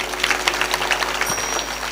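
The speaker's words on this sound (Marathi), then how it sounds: "त्यांच्यासाठी जोरदार टाळी वाजव" Clapping from a crowd at a Marathi comedy kirtan, a short, moderately loud patter of applause over a low steady hum from the sound system.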